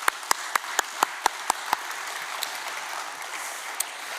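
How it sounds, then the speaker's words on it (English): Applause for speakers at the end of a symposium session, heard as several sharp, sparse claps close by over a faint, distant patter of a larger audience, then a last lone clap. "A round of applause, please,"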